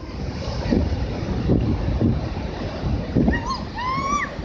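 Large merged sneaker waves surge far up a beach, a continuous heavy roar of surf with repeated booming crashes under strong wind noise, and a few high whistling calls or squeals near the end.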